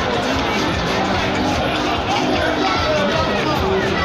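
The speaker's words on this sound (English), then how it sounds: "The crowd." A large crowd at an EndSars protest in Anambra State, a constant dense roar of many voices shouting and chattering together, close and loud with no pauses.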